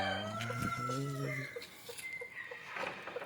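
Native country chickens at a coop in the morning, with a rooster crowing loudly up close in a long drawn-out call, followed by scattered clucks from the flock and a second shorter crow near the end.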